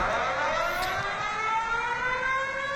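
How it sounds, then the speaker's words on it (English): Malaysia's emergency alarm siren, much like an ambulance, wails as a steady loud electronic tone with stacked harmonics slowly gliding upward, continuous and close with no talk. "So this is literally just the sound of an ambulance."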